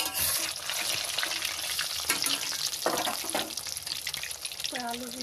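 Potato fries coated in rice flour and chilli flakes fry in hot oil with a dense, steady, close sizzle and crackle throughout, with some stirring and a brief tonal clink near the end.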